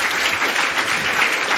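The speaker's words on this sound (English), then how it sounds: "let's give them another round of applause" An audience at a talk on resilient health systems gives a round of applause, dense steady clapping filling the whole short stretch with no voices over it.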